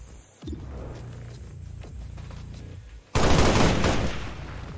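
Rapid bursts of gunfire in the video game XCOM 2: War of the Chosen crackle continuously, then a heavier, louder volley erupts and keeps going, dense and sustained.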